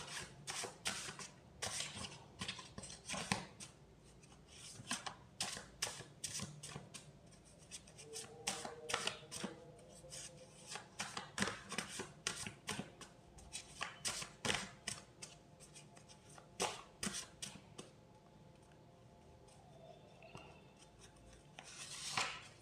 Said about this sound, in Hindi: एक कार्ड और निकाल लेते हैं आपके लिए।